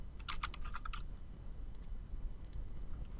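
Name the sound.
typing on a computer keyboard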